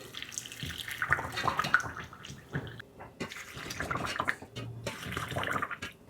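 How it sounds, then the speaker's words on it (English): Hot pickle brine pours into jars packed with vegetables, giving a continuous splashing, trickling stream with brief pauses between jars, close and moderately quiet. "I'm gonna pour it over the vegetables, trying to evenly distribute the ingredients in the brine in each of the jars."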